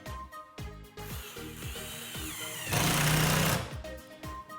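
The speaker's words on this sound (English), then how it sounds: "Then we're going to put some screws in it right there." A power drill drives screws through a plywood piece into a wooden lemonade stand frame, with short whirring bursts and one longer, louder drive near the end, close by.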